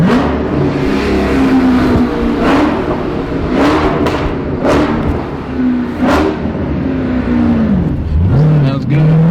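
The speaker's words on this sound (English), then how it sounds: "we didn't do a rev underneath the underpass" Dodge Hellcat with a newly fitted exhaust revving repeatedly beneath an underpass, loud close blips rising and falling in a steady series over a deep echoing idle, ending in a drawn-out rev.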